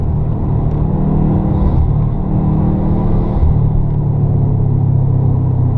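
A Subaru car engine with a Cobb AccessPORT tune and SF intake rumbles and revs steadily while driving, a deep continuous throaty drone close by, swelling slightly in the middle.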